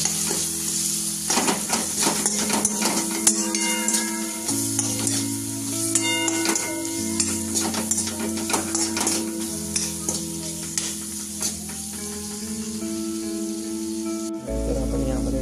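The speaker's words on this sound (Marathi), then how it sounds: "आणि याला नंतर आपण असं परतून घ्यायचं आहे." Spices with turmeric and chili powder sizzle steadily in a pan while being stirred for a fenugreek dish, with scraping clinks from a spoon and a loud burst of frying near the end, no talk over it.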